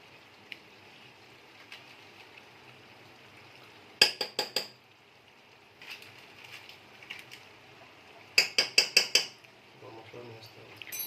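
A metal spoon scrapes and clinks against a pot of mutton gravy in quick clusters of taps, with quieter stirring between them and a soft background hum.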